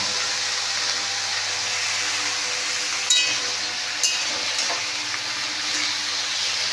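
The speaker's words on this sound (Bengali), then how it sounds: "এগুলো দিয়ে নুন হলুদ দিয়ে এখন এটাকে ভালো করে সাঁতলে নেবো।" Vegetables sautéing with salt and turmeric in a pan give a steady, close sizzle throughout, with a couple of brief utensil clinks partway through and no talking.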